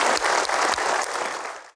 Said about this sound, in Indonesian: Kita berikan aplaus untuk Pak Doni